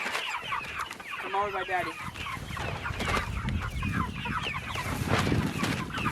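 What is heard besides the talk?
chickens clucking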